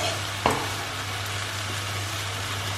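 Three tomatoes go into a hot, sizzling pan and are stirred. A brief clatter near the start gives way to a steady, loud frying hiss with no talking.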